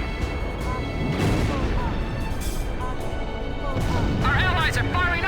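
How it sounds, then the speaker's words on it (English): Anti-aircraft fire rattles through a busy air-combat scene over a POW camp in Ace Combat 5, a continuous dense barrage of booms and crackle with a voice speaking over it. "We have to suppress the anti-aircraft fire first."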